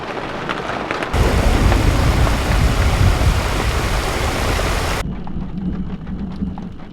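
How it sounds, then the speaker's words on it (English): Steady heavy thunderstorm rain in Northern Ontario roars close by, with a deep rumble of thunder underneath; the downpour cuts off abruptly near the end, leaving a quieter dripping patter. "So you can probably still hear the thunder,"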